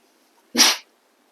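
A single sharp sneeze, close and loud, bursting out of near silence and ending quickly.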